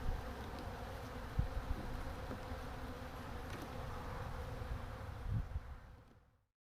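A dense swarm of honeybees buzzes steadily around an open hive during an inspection, with a few sharp knocks and handling sounds before everything fades out.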